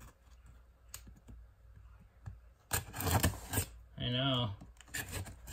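An X-Acto knife slices through packing tape on a used NES box, short scraping and tearing bursts in the middle of the clip, with a brief spoken remark nearby.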